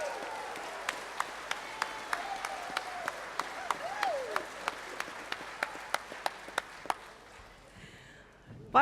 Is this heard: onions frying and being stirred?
no